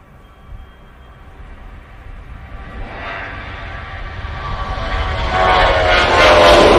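A Boeing 737-800 departs Manchester Airport for Palma de Mallorca, its engine roar starting faint and swelling steadily into a loud, close rumble with rising whine, with no voices.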